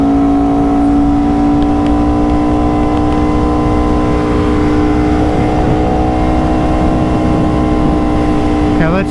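Aprilia RSV4 motorcycle engine holds a loud, steady high-pitched drone with stacked harmonics under heavy wind roar, pitch creeping slightly as it runs.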